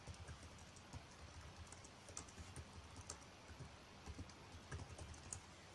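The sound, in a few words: typing on a computer keyboard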